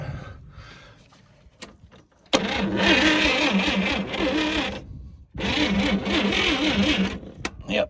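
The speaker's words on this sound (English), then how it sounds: "Let's just see how it cranks." A 1959 GMC truck engine cranks in two long bursts of loud, rhythmic, labored churning separated by a short pause, with quieter handling noises around them.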